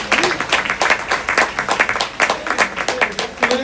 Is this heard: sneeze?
no